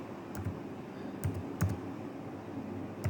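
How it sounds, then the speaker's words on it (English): A few scattered key presses on a keyboard while entering an Authy authentication code, soft clicks spaced irregularly over a low room hum, close by with no talking. "I'm going to type it in right now."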